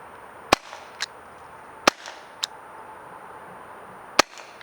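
Sharp cracks from a T4E Walther PDP .43 caliber CO2 training pistol, five spaced shots, some followed by fainter metallic pings of rounds striking a plate, loud and close with no talking.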